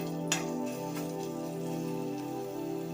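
Garlic fries in about a spoon and a half of oil in a pan over low to medium heat, a soft continuous close sizzle with faint pops, no voices.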